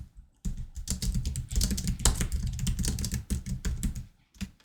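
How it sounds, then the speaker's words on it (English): Fingers type quickly on a computer keyboard, a close, steady clatter of keystrokes with a few brief pauses, heard alone without talk. "I'm going to type"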